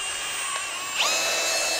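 A power drill whines as it bores a hole through a belt, a short high-pitched steady spin that rises in pitch partway as the bit bites, close and alone.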